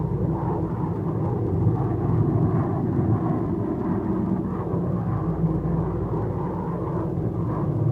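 The Bell X-1A rocket aircraft in flight produces a steady, heavy rumbling roar that holds at an even level throughout.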